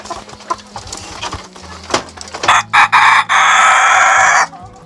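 Chickens in a coop cluck in scattered bursts, then a rooster crows loudly and close, a long drawn-out call near the end, over a background of lighter clucking and farmyard noise.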